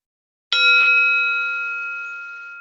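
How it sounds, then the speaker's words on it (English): A single bell, struck once during a home relaxation and breathing practice, rings out clear and close after a moment of silence, then its bright tone slowly fades. "I'm going to ring the bell"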